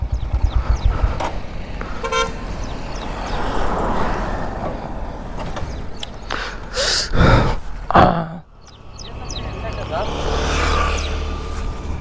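A vehicle horn honks briefly outdoors to call street dogs, a short tonal toot followed by traffic and street noise, with someone talking throughout.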